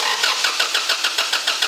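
A 1996 Toyota Tacoma's engine cranks over steadily without catching, its starter churning in an even, rapid rhythm of repeated pulses, close and loud, with no voices.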